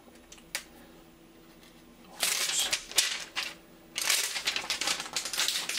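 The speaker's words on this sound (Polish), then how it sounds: "Jeszcze zerwę tą folię z backplate'a." Protective foil is torn off the backplate of an Asus RX 5700 graphics card in two loud crinkling bursts, separated by short gaps after a quiet start.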